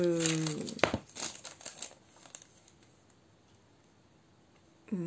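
Watercolor paper crinkles and rustles in a few quick bursts close up, with brief voices at the start and end.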